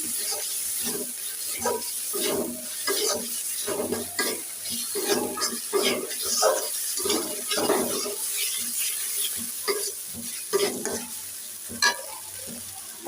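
Beef pieces sauté with spice paste in a pan, giving a steady sizzle broken by repeated scraping and clinking stirs, close and moderately loud, with no talking.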